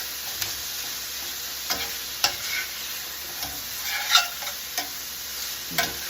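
Mixed vegetables for a chicken and cashew stir fry crackle in a hot pan with a steady hiss, broken by sharp scraping clicks from stirring every second or so.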